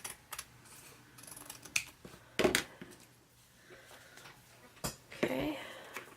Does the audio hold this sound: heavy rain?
no